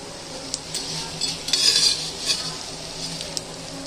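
Crispy fried arbi leaf patode lifted from a sizzling pan, with metal utensil scrapes and clinks over a soft background frying hiss, no talking.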